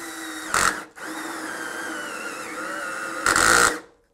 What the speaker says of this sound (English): So now I want to drill a hole